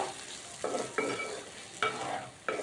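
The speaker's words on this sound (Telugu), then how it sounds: "కొంచెం సేపు అలా వేగనిస్తే సరిపోతుంది ఎక్కువసేపు వేగనివ్వాల్సిన అవసరం ఏం లేదు" Okra (ladies finger) frying with chili powder in a pan: a steady soft sizzle broken by four crisp scraping strokes of a spoon stirring, close and fairly quiet, with no talking.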